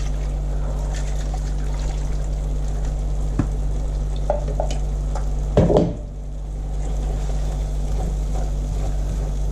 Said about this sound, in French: Vous mélangez bien jusqu'à ce que l'huile se sépare de votre pâte.